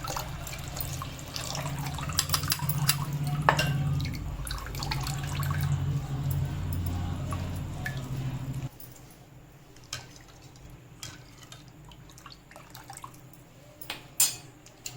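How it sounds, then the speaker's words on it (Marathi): Kokum and beetroot solkadhi liquid is strained, with a steady low trickling pour at close range for about half the time, then quieter drips and small splashes. "आता हे कोकम आहे ना हे गाळून घ्यायचं आपण"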